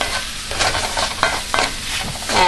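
Seasoning is stirred into cooked-down vegetables in a pan: a spoon scrapes in repeated strokes over a soft, steady sizzle, close and alone.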